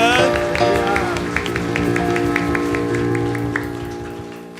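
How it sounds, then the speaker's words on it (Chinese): A church congregation clapping together at a Sunday worship service, a dense sustained patter of many hands under lingering musical tones, steady at first and slowly fading. "我们拍掌，将一切荣耀都归给我们神"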